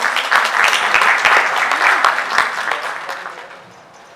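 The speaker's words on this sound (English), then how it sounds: "Can we have a round of applause for our CEO, sir?" A roomful of people at a founder's day celebration gives a short, loud burst of applause for the CEO, dense clapping that fades out after about four seconds.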